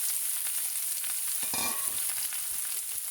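Boiled, cubed potatoes dropped into a hot pan with sesame seeds, a steady close sizzle with a brief louder scrape and hiss as they land, no voices.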